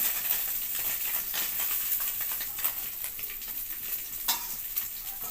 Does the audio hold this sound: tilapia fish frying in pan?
yes